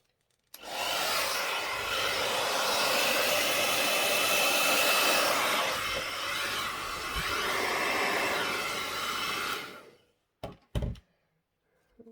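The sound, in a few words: hair dryer blowing acrylic paint for a Dutch pour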